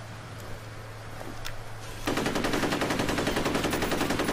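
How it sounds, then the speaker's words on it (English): Rapid machine-gun fire in the video game Fear Files breaks out after a quiet stretch and continues as a loud, steady rattle. "I'll just keep shooting."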